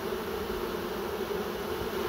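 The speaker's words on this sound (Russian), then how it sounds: "вот как эта пчелка делает, вот она стоит, лапками держит и крылышками машет." Bees at a hive entrance fan their wings, giving a steady dense buzzing drone that stays close and constant throughout, with no voices.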